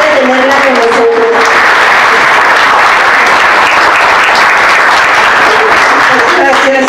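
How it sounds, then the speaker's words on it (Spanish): An audience at a women-in-history lecture breaks into loud sustained applause to welcome Carmen Lugo, dense clapping filling the room for several seconds, with faint voices mixed in. "fuerte aplauso por favor a la maestra Carmen Lugo"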